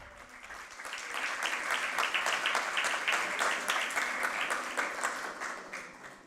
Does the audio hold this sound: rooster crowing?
no